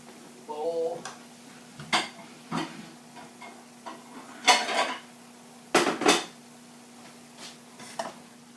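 Cooked meat goes into a bowl in a home kitchen, with scattered clinks and clatters of a utensil striking dishes and pans, loud and close in irregular bursts, and brief talk near the start.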